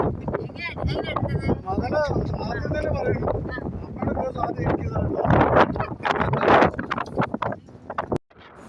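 Gusty wind buffets the microphone in rough, rumbling bursts at Eagle Rock (Parunthumpara) near Peerumedu, while several people talk nearby.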